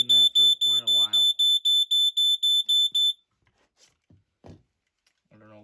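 A Firex FX1218 smoke alarm gives about a dozen sharp, piercing beeps in quick, even succession for roughly three seconds, then stops; a voice is heard briefly at the start and again at the end.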